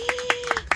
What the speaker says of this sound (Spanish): Un aplauso para Zenia.